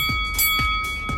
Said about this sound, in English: Turn on your notification bell so that you always know when I upload